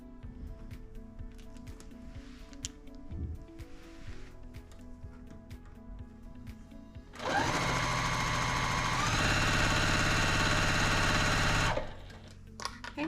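A sewing machine stitches three quilt fabric pieces together in one loud steady run lasting several seconds, preceded by quieter fabric handling and rustling, and it stops abruptly near the end.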